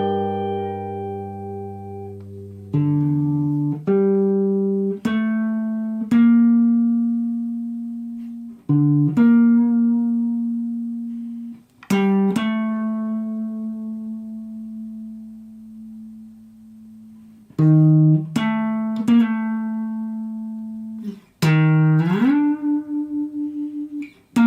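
Solo guitar plays a melody from Ghost of Tsushima as clean, plucked single notes. Phrases rise and fall, with some notes held and left to ring out, close and clear with no voices.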